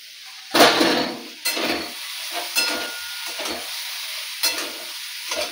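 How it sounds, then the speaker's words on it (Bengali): Potatoes, pointed gourd, jackfruit seeds and pumpkin fry without spices in a pan. Loud bursts of sizzling come with each stir, separated by quieter crackling, and several scraping strokes occur at irregular intervals. "সম্পূর্ণ মশলা ছাড়াই এখানে একটা এই যে দেখো আলু, পটল, কাঁঠাল দানা, কুমড়ো সমস্ত কিছু একটা সবজি করছি"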